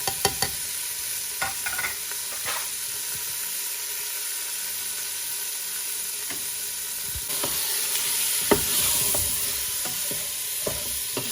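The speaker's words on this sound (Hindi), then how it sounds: "थोड़ी सी चिकन भून लेंगे हम लोग" Chicken with salt and spices frying in a pan, a steady close sizzle with occasional stirring scrapes and clinks, continuous and alone without talk.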